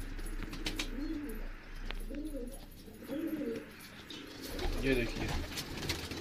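Breeding pigeons in a rooftop loft coo softly and repeatedly at close range, several low rolling coos spaced a second or so apart, with someone talking now and then.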